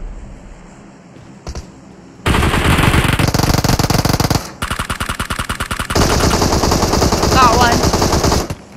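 Automatic and single gunfire in the video game PUBG on the Sanhok map: a few isolated shots, then long loud rapid-fire bursts, a short pause and another sustained burst near the microphone.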